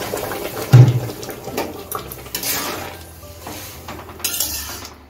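Lentils tipped into a cooking pot on the stove for a mung dal with fish head, giving a brief loud clatter and rush followed by softer stirring and pot noises, with no talking.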